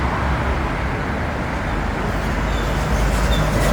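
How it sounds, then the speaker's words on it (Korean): Dense road traffic roars beside a motor-vehicle-only expressway: a loud, continuous broadband wash of passing cars, buses and trucks, with no pause and no talk. "극한 소음의 현장인 자동차 전용 도로로 한번"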